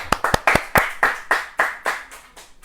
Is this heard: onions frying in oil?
no